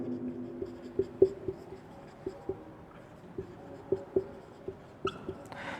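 Marker or chalk writing on a board during a math lesson, a series of faint scratchy strokes and taps spread irregularly over several seconds, close but quiet, with no talk.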